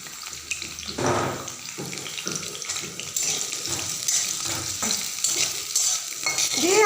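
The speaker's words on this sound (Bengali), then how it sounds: "আর দিয়ে দেব এই যে কুচি করা পেঁয়াজ" Chopped onion and bay leaf frying in hot oil in a pan, with a steady close sizzle and some stirring and scraping.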